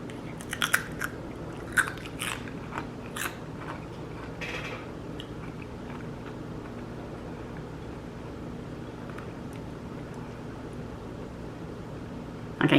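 Homemade sharp cheddar cheese crisps dusted with chili powder being bitten and chewed, giving several close, crisp crunches early on that fade into quieter chewing over a faint steady background hum.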